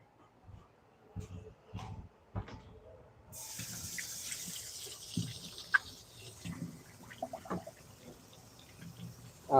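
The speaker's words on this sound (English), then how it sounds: "Wash my hands real quick." Running tap water while hands are washed in a home kitchen after handling raw sausage, a steady hiss that starts partway in and continues, with faint clunks and a voice in the background.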